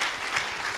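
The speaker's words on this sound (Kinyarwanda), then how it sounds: "Let's applaud to God." Congregation applause at a church service, a steady dense wash of many hands clapping throughout, fairly loud and even with no voices above it.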